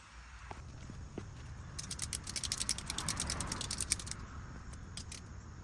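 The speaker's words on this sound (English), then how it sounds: "Now you're gonna hook up a strap just like this, and you're gonna tighten it until the turn radius maxes out." A ratchet strap hooked to a jack is tightened while fitting lower ball joints on a G35, giving a quick run of sharp metallic clicks close by after a few soft knocks.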